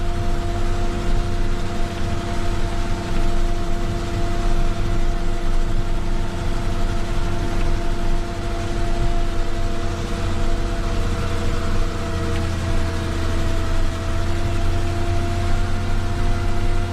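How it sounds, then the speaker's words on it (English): A tractor engine runs steadily and loudly from inside the cab while nitrogen fertiliser is spread on winter barley, a constant droning hum with a steady tone and no talking. "Because we were coming up the hill, so the tractor needed more revs to maintain the same speed or the same output."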